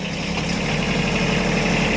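A three-cylinder Kubota B1-14 tractor diesel engine idles close by, a steady low throbbing rumble with an even rhythm and no talking.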